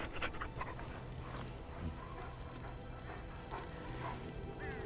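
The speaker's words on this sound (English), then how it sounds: "He bounces around, barking excitedly." Dog companion in the Dragon Age: Origins fantasy video game, with a steady dense game soundscape carrying dog panting and a few excited vocal bursts, moderately loud throughout with no talk.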